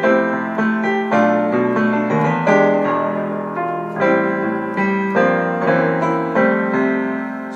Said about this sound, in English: This first sound that you're hearing is a piano that you're hearing.